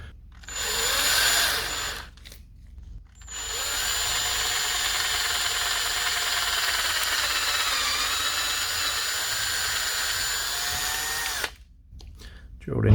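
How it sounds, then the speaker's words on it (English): A power drill bores a large hinge hole into a timber wake bait, a loud, sustained whine that runs for about eight seconds, with short bursts of drilling before it and faint sounds of someone working around it. "drill the big hole for the hinge"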